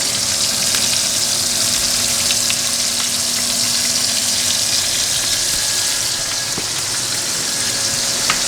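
Food sears in a hot pan with a loud, continuous sizzle that holds dense and even throughout, close up, with a few faint clicks mixed in.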